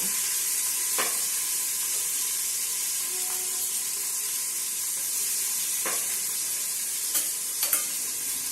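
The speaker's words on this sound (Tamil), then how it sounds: "அதை எல்லாத்தையும் அப்படியே போட்டு நல்லா வதக்க போகிறோம்" Onions sauté in a hot pan for chicken biryani with a steady sizzling hiss, with a few brief scraping stirs and utensil clinks.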